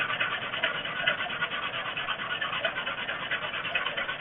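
Sandpaper rubs a vertex pencil kit blank spinning on a wood lathe, a steady close rasping scratch with slight rhythmic pulsing, continuous and without talk.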